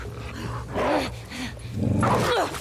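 A dog growls and barks in The Last of Us Part II video game, with several rough, rising calls over a low, steady background rumble.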